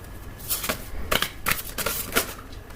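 Tarot cards are shuffled by hand in a series of quick crisp riffles and slaps, about five bursts in under three seconds, close and clear with no talking.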